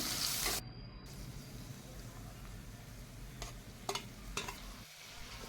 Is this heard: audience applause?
no